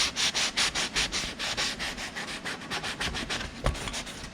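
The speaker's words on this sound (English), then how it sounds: "So get in there and just scuff the paint up around it." A 500/600-grade sanding sponge scuffs the painted bonnet of a Ford Falcon XC GXL in quick rhythmic back-and-forth rubbing strokes, close and steady, with one sharper knock near the end.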